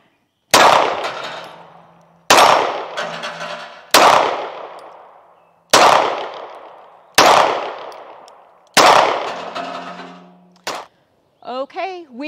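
Six loud, sharp gunshots from a Cosaint Arms COS11 fired outdoors, spaced about one and a half seconds apart, each ringing out briefly before the next, followed by a clipped exclamation of voice.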